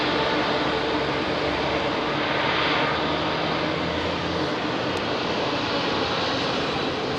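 Airliner engines at Heathrow on runway 27R give a brief power burst to roll onto the entry point, a steady loud broadband roar throughout with no voices.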